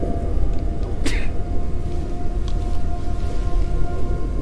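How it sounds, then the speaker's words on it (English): A single sharp sneeze from a character in the video game Abiotic Factor bursts out early on, then a steady background hum continues. "Do those things hear me sneezing?"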